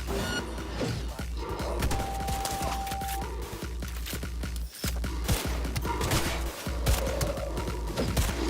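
Rapid gunfire crackles through a dense, noisy game mix in Cyberpunk 2077, including shots from the Skippy pistol, with sharp reports repeating throughout amid constant background clatter.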